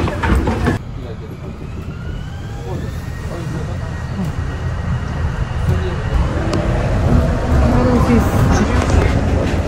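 A train pulls into a station in Japan with a steady low rumble that swells gradually, and faint squeals and hiss rise over it while people talk nearby.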